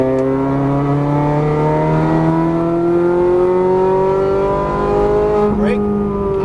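A Ferrari 430 Scuderia's engine climbs in pitch under hard acceleration on a track, a loud, close, continuous rising roar with an instructor's voice over it and a brief tire squeal near the end.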